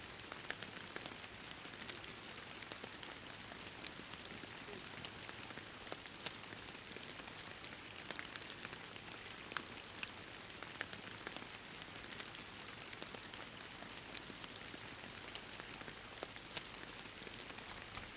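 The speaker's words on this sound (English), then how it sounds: "It is indeed raining, Mr. Custard, and it sounds wonderful." Rain falls steadily in the fishing game Fishing Planet, a soft, even patter of drops on surfaces that continues unbroken throughout, with no voices.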